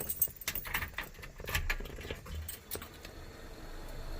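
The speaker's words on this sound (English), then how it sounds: "Gotta have the keys." Car keys for a 1964 Oldsmobile Dynamic 88 jangle in a series of quick metallic clinks and rattles, close and fairly quiet, clustered in the first three seconds before fading to low background noise.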